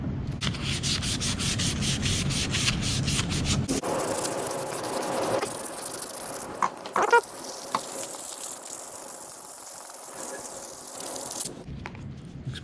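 Sandpaper rubbed by hand over a surface to remove sticker residue, a steady close scraping with fast back-and-forth strokes, shifting to a lighter, smoother rub midway and stopping near the end.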